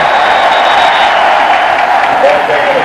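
A stadium crowd roars at a 1996 college football game between Oklahoma and Texas A&M, a dense, steady wall of loud noise throughout with a voice faintly underneath.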